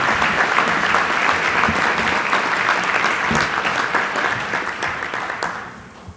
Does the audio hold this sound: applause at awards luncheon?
yes